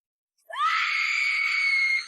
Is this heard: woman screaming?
yes